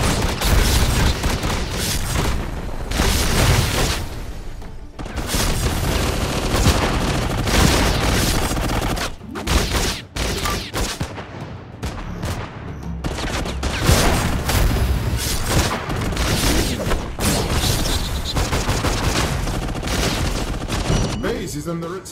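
Dense, continuous video-game battle gunfire during a base attack: rapid overlapping shots and booms fill the whole stretch at high volume, with brief dips, and spoken game alerts mixed in.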